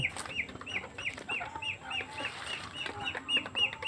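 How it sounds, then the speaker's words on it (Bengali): Desi chickens cluck repeatedly while feeding in a netted enclosure, with several birds producing overlapping short calls in a busy, close rhythm. "এই যে এখানে মুরগি খাইতেছে"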